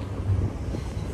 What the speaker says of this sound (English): Sorry, there's a lot of wind.